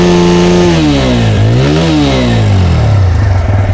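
Close, loud exhaust note of a 2025 TVS Apache 160 2V motorcycle as the throttle is blipped in neutral, the engine climbing quickly in pitch, peaking, then sliding back down to a steady idle, no voices.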